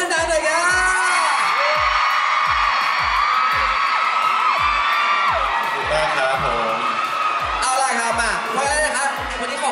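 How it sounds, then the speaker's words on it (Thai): Fans at an idol fan festival scream, whoop and cheer in a loud, sustained roar, with shrill shrieks rising and falling over steady rhythmic thumping music throughout. "มาจ้องใครคนไหนขอเสียงกรี๊ดคนนั้นๆหน่อยครับ"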